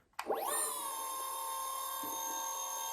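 A sharp click, then a steady high-pitched electric skateboard motor whine, a Maxfind MAX2 Pro Dual spinning its wheels at full speed, rising quickly to a constant speed and holding there, close and fairly quiet.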